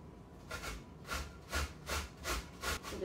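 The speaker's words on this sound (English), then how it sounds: "We're just going to use the whole zucchini and grate it." A whole zucchini rubbed down a grater in a kitchen, giving steady rasping strokes about twice a second, each a short scratchy burst, close and moderately loud with no talking.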